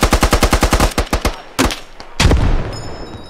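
Rapid machine-gun fire in an urban warfare shooter game, a fast run of loud close bursts followed by a couple of heavier single shots and a booming report trailing off.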